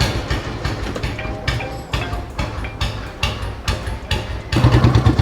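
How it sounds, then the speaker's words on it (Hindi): A restored 1993 Royal Enfield Bullet motorcycle engine runs at idle nearby, with a steady low thumping pulse that grows louder near the end. "अब आपको एक बार साउंड और चेक करा देते हैं इस बुलेट की स्टार्ट करके"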